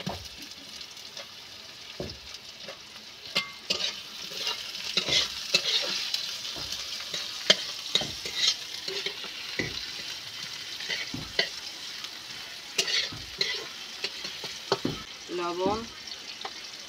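Onions added to oil after frying garlic for a lata fish and okra curry sizzle steadily while a spatula scrapes and taps the pan in an uneven rhythm, with occasional faint background voices.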